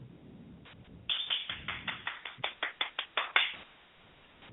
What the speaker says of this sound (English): Y'all only heard one hand clap because it's only me in here.